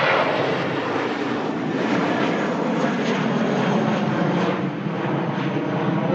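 Vueling Airbus departing Manchester Airport for Barcelona, a loud continuous jet engine roar at full power holding steady throughout with no talk.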